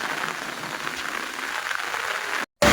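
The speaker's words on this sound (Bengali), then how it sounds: "মনে হচ্ছে এই বৃষ্টি খুব সহজে থামবে না।" Steady rain falls on a rainy day outdoors, a dense even hiss throughout that briefly cuts out near the end.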